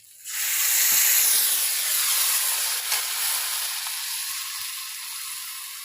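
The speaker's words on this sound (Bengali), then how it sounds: "এবার আমি মশলাটা দিয়ে দেবো" Spice paste hits hot fried potatoes in a pan, bursting into a loud hiss that quickly swells and then slowly eases into a steady sizzle.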